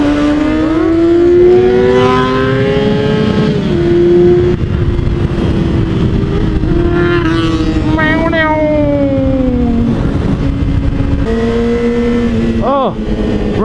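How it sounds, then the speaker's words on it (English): A loud motorcycle engine heard from the back seat while riding, droning continuously with shifting pitch as the rider accelerates and eases off, close and dominant, mixed with road and wind noise. "That bike is super loud."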